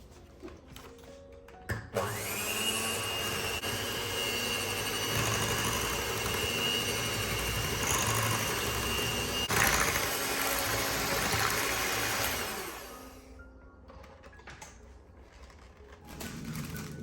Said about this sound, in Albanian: do t'i hedhim 200 ml pana për ëmbëlsira dhe do ta rrahim